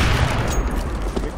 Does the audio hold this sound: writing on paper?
no